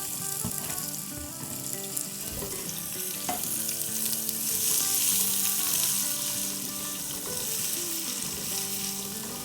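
Finely chopped onion sizzles and fries gently in a pan for a Punjabi chicken salan, a steady close crackle with occasional stirring and no voices.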